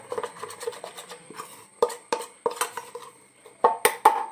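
A spoon scrapes and clinks against a bowl in irregular bursts while mixing three soap ingredients into a paste, with a few sharper knocks near the end and no talking.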